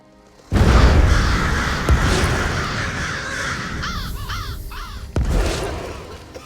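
Several crows caw in a video game, Elder Scrolls Online, heard in a short burst of three or four harsh calls over a loud, steady ambient wash, with a deep thump near the start and another near the end.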